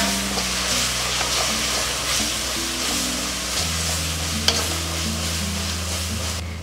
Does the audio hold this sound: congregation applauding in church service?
no